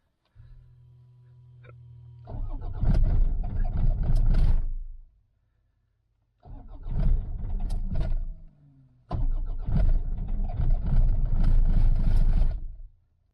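Toyota Land Cruiser Prado 120 diesel cranking over and over without catching, in three long loud bursts of starter churn separated by silent pauses, with a low hum before the first attempt.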